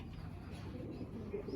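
Pigeons of Madrasi and Andhra breeds coo softly in a loft, low murmuring calls blending into a faint, continuous background with no clear separate notes.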